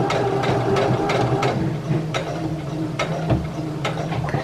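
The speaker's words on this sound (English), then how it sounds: "And remember, at the end, you always back stitch again." A sewing machine back stitching at the end of a seam on a scrunchie, giving a steady close mechanical whir with rapid ticking needle strokes that keeps running without a pause.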